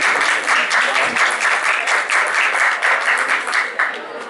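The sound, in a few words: audience applause for Jean-Paul Salomé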